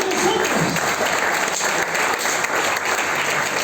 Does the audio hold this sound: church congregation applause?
yes